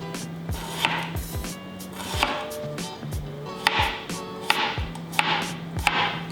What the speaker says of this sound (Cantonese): 薑同蒜頭切片